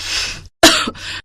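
A sick woman coughing in bed in a Hindi story, two or three harsh close coughs with throat-clearing between them, separated by a brief pause.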